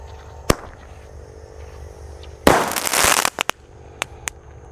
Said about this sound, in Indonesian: Lanjut yang kita nyalakan, di sini ada Golden Blitz Roman Candle guys. Sudah menyala,